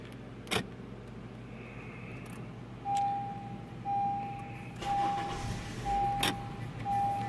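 A 2003 Honda car engine idles with a low, steady hum, quiet and even throughout, with a few faint clicks and a thin electronic tone on and off.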